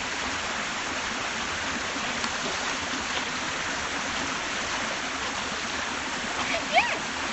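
A mountain stream flowing on Cheonggyesan, a steady broadband rush of water that stays even throughout with a brief splash near the end.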